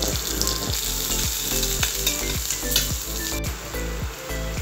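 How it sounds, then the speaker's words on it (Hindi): Onion sizzles steadily in hot oil in a pan for Indian-style white sauce pasta, a continuous loud frying hiss with rhythmic stirring scrapes and no voices. "अब मैं इसमें प्याज डाल रही हूँ।"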